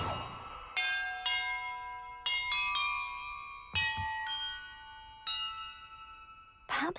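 Bells in the video game Hogwarts Legacy ring out one after another, seven or eight clear metallic strikes at different pitches, each chime sustaining and slowly fading as the next is struck.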